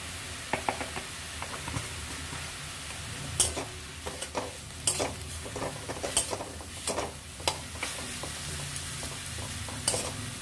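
Ash gourd with salt and turmeric being stirred in a sizzling pan, a soft frying hiss under repeated sharp scrapes and taps of the spoon against the pan, irregular and close, with no voices.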